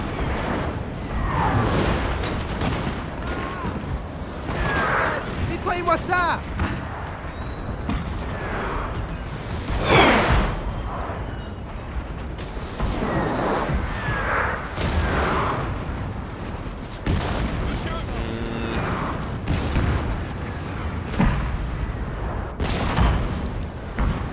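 Musket volleys and artillery booms from a Napoleon Total War battle recreating Waterloo 1815, a busy mix of repeated cracks and dull thuds at varying distances, with a faint voice underneath at times.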